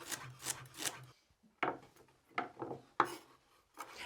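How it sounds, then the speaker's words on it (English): Ribs of celery chopped loosely with a knife on a cutting board, several sharp, quick chops and rasping strokes in short uneven bursts with brief pauses, close and clear, no talking. "I'm just gonna loosely chop these end to end and throw them directly into the pot."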